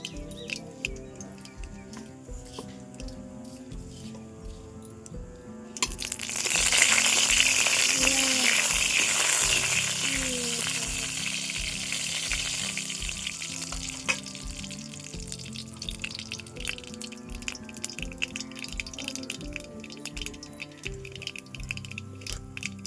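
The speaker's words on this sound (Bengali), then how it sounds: "দিলাম শুকনো লঙ্কা আর কালো সর্ষে" Dry red chillies and black mustard seeds hit hot oil with a sudden loud hiss, then settle into a long sizzle and popping crackle. Light ticking and scraping sounds run throughout.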